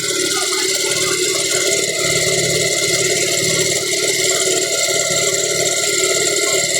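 A Bajaj Rouser 220 motorcycle engine with a mistimed scissor gear runs steadily at idle, giving a continuous close mechanical drone with a faint rattling texture throughout.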